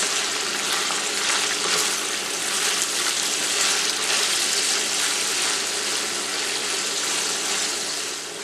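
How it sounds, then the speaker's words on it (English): Minced garlic cloves and sliced onions sautéing in a pan, a loud, steady hiss of sizzling oil that fills the whole stretch with little variation. "2 minced garlic cloves. Stir well and saute for 3 minutes."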